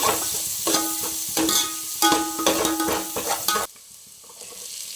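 Carrot, beans, ginger, garlic and onion sauté in a pan, with a loud sizzle and repeated clanking stirs of a spatula that stop abruptly, leaving a faint quiet sizzle.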